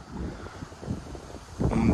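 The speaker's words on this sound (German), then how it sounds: "ist sehr windig." Strong wind buffets the microphone in steady, low rumbling gusts that swell louder near the end, on a windy day at a campsite in Istria, Croatia.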